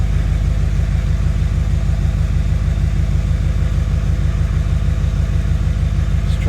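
A Duramax diesel pickup truck with electrical problems runs at a steady idle, its loud, even rumble continuing close by and unchanging, with no talking.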